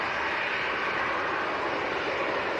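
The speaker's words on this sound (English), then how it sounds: "This EasyJet Neo taking our favourite taxiway" An EasyJet Airbus A320neo airliner rolls along a taxiway at Manchester Airport on a windy day, its engines giving a steady, broad roar without pause or talk.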